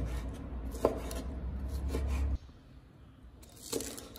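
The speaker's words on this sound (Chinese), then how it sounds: "然后改刀切成小块。" A kitchen knife cutting tofu into small pieces makes a few soft, spaced taps against the cutting board. A low hum drops away partway through, leaving a quiet room.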